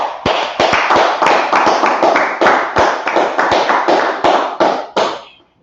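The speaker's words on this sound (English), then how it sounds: "Clap it up." A brotherhood class applauds in a rhythmic run of loud, sharp claps, closely spaced and regular, ending in a final clap that trails off.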